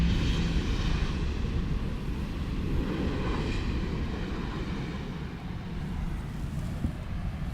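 Airliner on approach to runway 18R at Amsterdam Schiphol, a steady broad jet roar that holds loud and continuous throughout with no talking.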